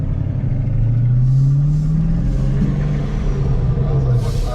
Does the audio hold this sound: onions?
no